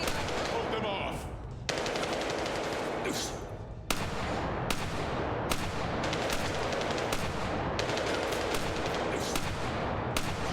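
Video game gunfire: a near-continuous roar of rapid shots, broken by a few sharp bursts, loud and close, with no clear talk over it.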